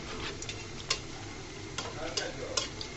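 Slices of bread and egg frying in a pan give off a quiet, steady hiss, broken by a few sharp spatula clicks and scrapes.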